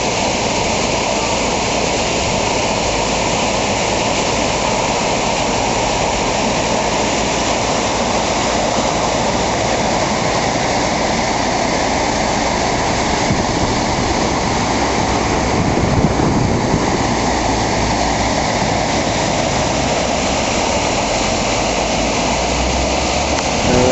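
Loud, constant roar of a small Australian creek in flood at several times its normal size, fast-rushing water filling the whole scene, steady and close, with no voices.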